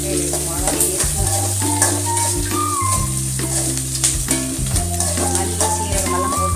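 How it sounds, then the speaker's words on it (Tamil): Red chillies, coriander seeds and cumin sautéing in a pan for a fish kuzhambu, giving a steady close sizzle with repeated stirring and scraping throughout, under a faint background hum. "மல்லி சீரகமெல்லாம் போட்டு வணக்கிக்கலாம்."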